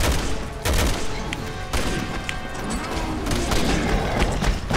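Dense, loud gunfire and explosive game noise in the video game Resident Evil 6, a continuous wall of sound with a few sharper shot peaks breaking through.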